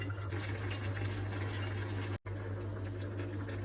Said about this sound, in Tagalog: Tapos pakuluan hanggang sa lumambot ang hair melon.